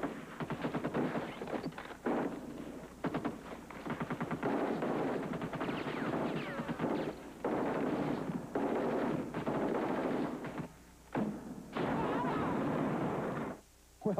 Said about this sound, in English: the Marines machine gun a large number of innocent banana trees